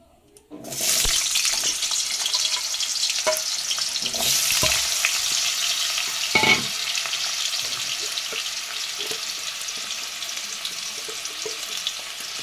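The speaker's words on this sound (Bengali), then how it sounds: "সামান্য পরিমাণ আলুতে একটু অল্প হলুদ দিলাম, দিয়ে আলুগুলো কিছুক্ষণ ধরে ভেজে নেব" Potatoes dusted with turmeric fry in white cooking oil in a pan, giving a loud, steady sizzle that starts abruptly and runs throughout, with brief stirring scrapes near the start and middle.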